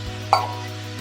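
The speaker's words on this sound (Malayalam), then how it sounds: "ഗ്രേറ്റ് ചെയ്ത് വെച്ചിരിക്കുന്ന ബീറ്റ്റൂട്ട് ചേർക്കാം. ഇത് നന്നായിട്ട് ഇങ്ങനെ ഇളക്കി ചേർക്കുക." Grated beetroot stirred in a hot pan gives one short, close scrape and sizzle over a low steady hum, with a faint tick just before it and no talking.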